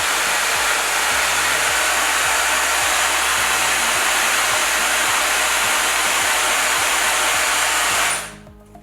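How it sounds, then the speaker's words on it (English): A powerful hair dryer roars close up for about eight seconds, a loud, steady rushing blast with a faint rhythmic ticking underneath, then it cuts off abruptly. "that might be the most powerful hairdryer I've ever used"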